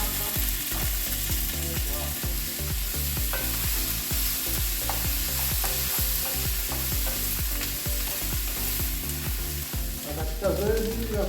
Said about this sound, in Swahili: Yaani nyama yetu tunaikaanga hapa mapema kabisa.